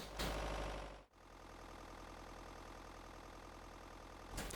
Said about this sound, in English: I miss when my Scania sounded like the old Scania